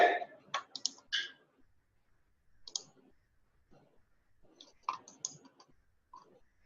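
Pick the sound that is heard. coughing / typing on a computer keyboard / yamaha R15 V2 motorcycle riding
typing on a computer keyboard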